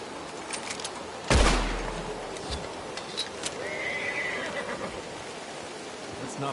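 A horse gives a loud, sharp whinny near the start, then fades into a quieter outdoor background with faint scattered sounds.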